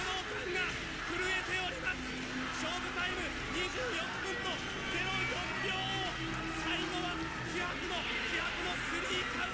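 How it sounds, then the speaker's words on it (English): A dense, roaring crowd fills a Japanese wrestling arena during a Stan Hansen match, a steady wall of cheering and babble that never lets up, heard close and loud. "Listen to the crowd."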